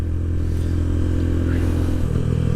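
A motorcycle engine drones loud and close, then its pitch drops near the end as the rider rolls off the throttle, pulls the clutch and shifts up.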